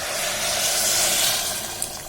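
Hot water pours steadily into a pot of rice, a close continuous rushing hiss lasting about two seconds.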